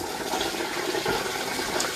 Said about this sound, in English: Turn on this water here.